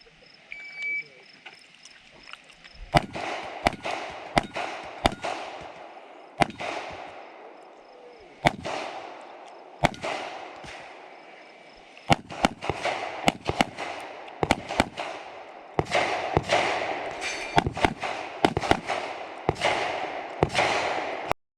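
Gunshots fired during a shooting competition stage, a string of sharp loud reports in uneven bursts over about twenty seconds, following a brief stretch of speech.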